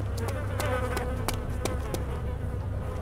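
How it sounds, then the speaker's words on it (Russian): Flies buzz steadily and close in the DayZ Mod video game, a continuous droning hum broken by a few sharp clicking accents, with no talk. "Я слышу мух."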